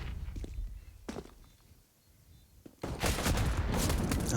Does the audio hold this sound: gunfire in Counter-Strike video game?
yes